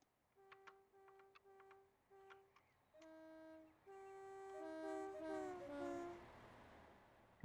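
A train in Train Sim Classic on the Carlisle to Dumfries line passes with a horn-like tone whose pitch bends as it goes by, starting as short separate toots and then swelling into a louder sustained sweep.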